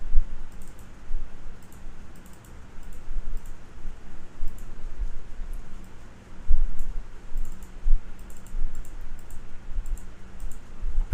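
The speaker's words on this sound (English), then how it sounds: "and then I'm going to type in burger" Keys on a computer keyboard click in short, uneven bursts while text is entered, light and faint, heard over a low steady room hum with no speech.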